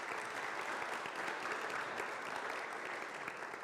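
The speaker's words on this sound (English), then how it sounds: "Let's give him a round of applause." A lecture audience claps steadily for a visiting speaker after his talk on the natural history of the local watershed, a dense, even roar of hands throughout with no talking.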